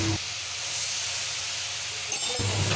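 A bowl of milk hits frying grated carrots for carrot halwa and erupts into a loud, broad hiss. The hiss holds steady, then flares again briefly near the end.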